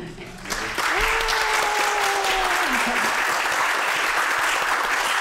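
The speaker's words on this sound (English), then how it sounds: "We give you a big welcoming applause." Welcoming applause from a Sunday service congregation greeting visiting guests, a dense, steady wash of clapping that swells in and holds loud throughout, with a brief sustained tone rising under the start.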